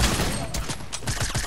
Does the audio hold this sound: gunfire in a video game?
yes